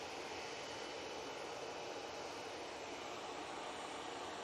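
A380 and other aircraft at Manchester Airport produce a steady, broad roar of engine noise that holds evenly throughout, distant but continuous, with no voices.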